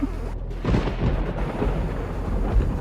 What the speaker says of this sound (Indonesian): Langsung petir doang.